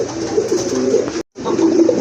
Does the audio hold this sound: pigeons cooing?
yes